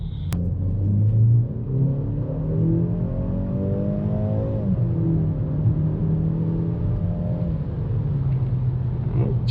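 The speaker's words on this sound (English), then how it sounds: "we are about to see how the 2023 BMW X1 performs. So we're gonna be doing a 20 to 60" A 2023 BMW X1 small SUV accelerates hard from 20 to 60 on a highway. Its engine note climbs steadily, dips at a gear change, then rises again under a constant road and tire rumble. The sound is heard from inside the cabin, with no talking.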